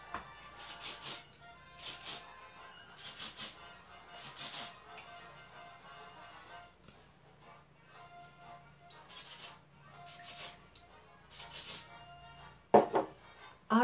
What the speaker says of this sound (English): let's do our final spray